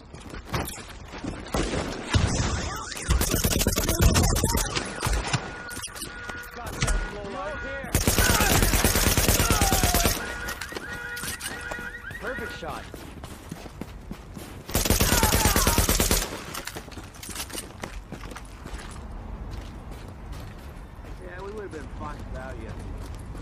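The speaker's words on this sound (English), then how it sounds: "Nice shooting there." Gunfire in The Division, dense bursts of automatic fire and explosive bangs mixed with voices and game sound, rising in two louder stretches before easing off.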